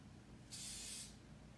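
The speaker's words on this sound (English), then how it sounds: "We're gonna spray this hair." Hairspray from an aerosol can sprays onto hair in one steady hiss of about half a second, close and fairly loud, with faint room tone before and after.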